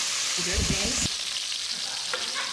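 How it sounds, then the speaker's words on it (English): Meat searing in a hot pan for cassoulet, a steady broadband sizzle of rendering fat throughout, close and fairly loud, with a few scrapes and clinks of stirring. "Are you getting the sizzle?"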